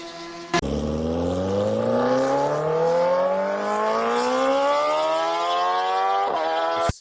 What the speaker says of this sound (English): They all look fine and sound like you'd expect a 1000cc superbike to sound.